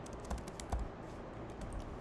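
Someone types on a computer keyboard while writing an HTML input element, producing soft, irregular clicks with a few louder key strikes over a low background hum.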